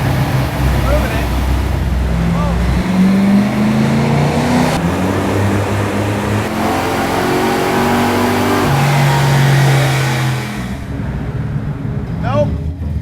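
1978 Chevrolet Monza Spyder engine supercharged by a leaf blower, revving loud and close through rising and falling sustained pulls, with people talking and cheering over it.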